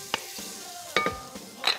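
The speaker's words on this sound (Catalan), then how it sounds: "Primer deixem que es faci aquesta ceba i aquest all." Onion and garlic frying in a pan for a spicy chicken fajita, with soft steady sizzling broken by a few sharp utensil scrapes and clinks of stirring, close and fairly quiet.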